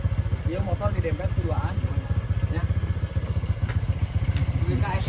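Motorcycle engine thudding in a steady, rapid low pulse while riding a rough, bad road, close and loud throughout, with people talking over it.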